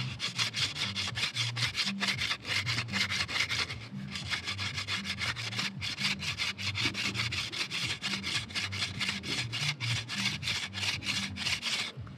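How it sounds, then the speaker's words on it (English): Sandpaper rubbed by hand over a piece of wood in brisk, steady back-and-forth strokes, making a close, continuous rhythmic rasping with no talking. "we're going to smoothen the piece of wood using the"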